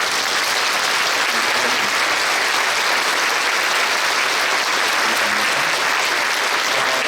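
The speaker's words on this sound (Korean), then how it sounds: "일어서실 때 큰 박수로" Sustained loud applause from a church congregation at a Korean Liberation Day 80th anniversary worship service, steady dense clapping filling the whole span without pause.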